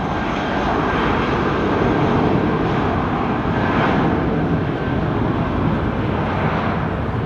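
An aircraft auxiliary power unit runs at Heathrow Airport, a loud steady turbine roar and hum with a faint high whine, unbroken throughout and with no voices.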